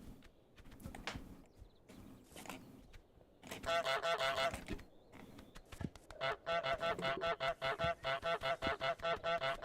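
Repeated nasal honks from geese in a video game, arriving in short bursts and then a long rhythmic run of calls, over soft footstep-like thuds and background game sounds.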